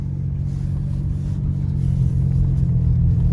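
A steady, low engine rumble from a 2000 Ford Ranger pickup with a makeshift repaired muffler, idling and then building slightly louder, with no voices.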